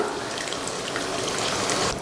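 Water left from washing ground lentils is poured into a pot of tamarind curry with lentil dumplings, making a steady, close splashing rush with no break and no talk.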